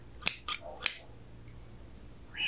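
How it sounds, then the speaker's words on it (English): Scissors snip close to the microphone in an ASMR cord-cutting session, three crisp, sharp cuts in quick succession and then quiet. "scissors."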